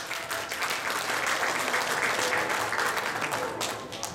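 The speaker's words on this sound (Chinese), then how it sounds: "请掌声鼓励" Steady applause from an award ceremony audience, many hands clapping together for a winner at a poster and technical innovation award presentation, dense and sustained throughout.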